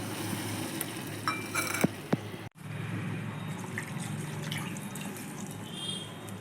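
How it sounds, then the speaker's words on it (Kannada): Three cups of water poured from a cup into a pan of cooked tomato and semolina for upma, a steady close splash and trickle with a few light clinks and a brief pause partway through. "ಅದೇ ಕಪ್ಪಲ್ಲಿ ನಾನು 3 ಕಪ್ ನೀರು ಹಾಕ್ಕೊತಾ ಇದ್ದೀನಿ."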